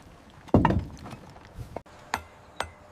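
Hand tools strike sandstone blocks at a quarry, chisels and hammers knocking out stone: a loud crunching impact followed by several sharp, separate clinking taps at moderate distance.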